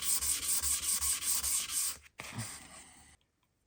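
Rubbing to clean the sole of an old Stanley No 4 smoothing plane, a close rhythmic back-and-forth scrubbing of about nine strokes, then a pause and a brief softer scrape before silence.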